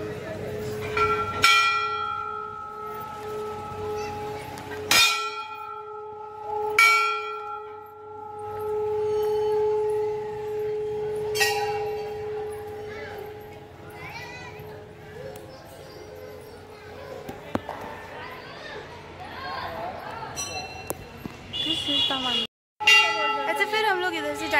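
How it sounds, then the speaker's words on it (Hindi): Temple bells at the Vaishno Devi mandir in Dalla: about six loud metallic strikes, spaced a few seconds apart, each ringing on with a long sustained tone amid crowd murmur and some voices. "घंटी बजाइए।"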